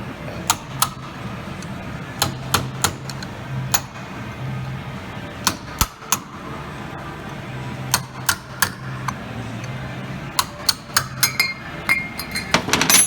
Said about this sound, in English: I'm going to use a hammer and a flat chisel